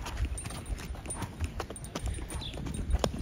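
Donkey hooves clip-clop along a stony path at Petra in Jordan, a quick, uneven run of close hoof strikes over quiet outdoor background.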